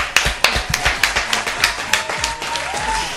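Applause from an audience at a French-language public event, a steady patter of many hands clapping with a few sharp individual claps standing out, fairly close and with little talk.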